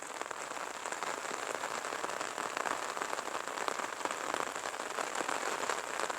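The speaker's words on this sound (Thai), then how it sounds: "เม็ดฝนเนาะดูฝนตกอากาศเย็นๆมีลมนิดหน่อยนะช่วงนี้" Rain falling on surfaces, a steady soft hiss of dense raindrops with fine pattering, fairly quiet and continuous.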